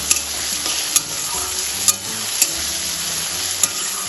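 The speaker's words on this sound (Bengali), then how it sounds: "সবকিছু তেলের সাথে এবার একটু কষিয়ে নেব" Garlic, ginger, onion and tomato sautéing in oil in a pan, a close, steady sizzle punctuated by sharp clicks and scrapes of a spoon stirring at irregular intervals, no speech.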